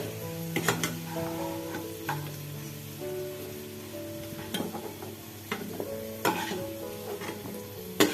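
Potatoes frying in refined oil in a kadai give a steady, soft sizzle, with irregular clicks and scrapes from stirring across the stretch and no voices.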